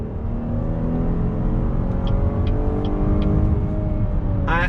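A 2020 Cadillac XT6 accelerating under throttle, heard as a steady, moderately loud engine note that climbs gradually over several seconds with no talking.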